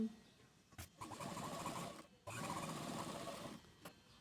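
A sewing machine stitches lining onto a garment sleeve in two steady whirring runs separated by a short pause, close and fairly quiet, with light clicks at the starts and stops.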